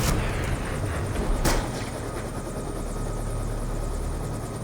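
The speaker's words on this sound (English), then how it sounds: "out of nowhere, a chopper pulls up" A helicopter pulls up close in the Black Ops 2 campaign, its rotor thumping loud and steady under a continuous engine whine.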